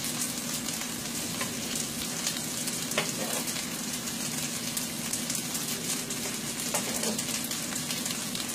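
Chicken lo mein noodles fry in a hot pan, a steady, dense sizzle running evenly throughout with a few faint clicks, close and continuous with no talking.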